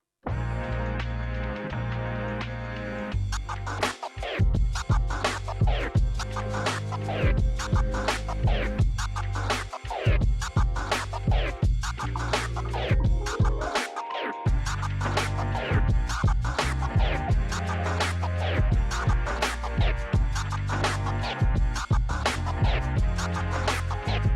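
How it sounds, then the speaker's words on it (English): Turntable delayed orbit scratches cut back and forth in rhythmic bursts over a looping beat with heavy kick drums, with the scratches landing just after the downbeat. "an orbit scratch that doesn't start on the downbeat"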